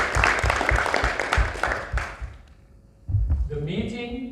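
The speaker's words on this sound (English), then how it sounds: "Give yourself a big round of applause." Audience applause at a speaking club meeting, a dense burst of clapping that fades out midway, followed by a speaker's voice starting up.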